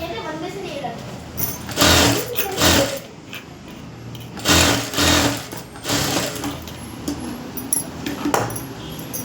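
A sewing machine runs in several short bursts while stitching a princess-cut blouse, its rapid mechanical whirr rising and stopping close by, with a person talking throughout.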